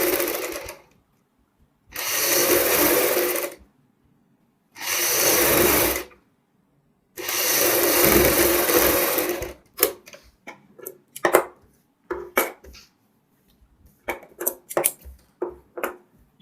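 Home sewing machine stitching lace onto the back neck of a blouse, three sustained whirring bursts separated by pauses, then short intermittent stitches and clicks, close and fairly quiet.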